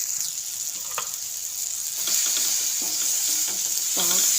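Tomato chutney with onion, spices, curry leaves and chopped coriander sautéing in a pan, giving a bright, loud sizzle with stirring scrapes that grows slightly louder toward the end.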